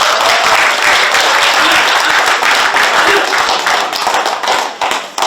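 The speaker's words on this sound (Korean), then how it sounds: "박수 한번 해주십시오." A crowd at a Korean political rally applauds a leader, loud, close and dense clapping with some sharp individual claps, thinning out and breaking up in the final second.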